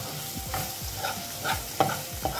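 A spoon scraping and stirring a beetroot mixture with dry coconut powder in a pan, repeated close scrapes in an uneven rhythm over a faint sizzle, no talking.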